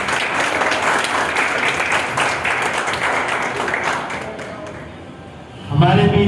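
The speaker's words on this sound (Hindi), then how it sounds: "इनके लिए भी मैं जोरदार तालियां" An audience at a speech event applauding an anchor, dense sustained clapping that tapers off, then a louder burst of other sound near the end.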